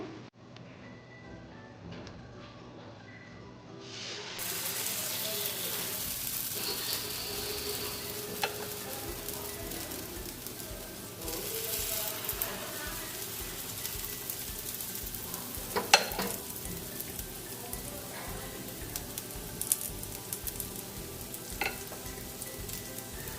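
Green vegetable pudla batter sizzles in a pan over a medium flame, a steady, close frying hiss that runs without a break, with faint ticks and scrapes and no talking.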